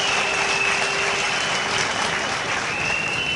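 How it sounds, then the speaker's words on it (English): Steady applause from an audience at a swearing-in ceremony, welcoming Vinette Frederick, a dense even patter of many hands that holds at a constant level throughout, with a faint tone running through it. "Give her too a round of applause."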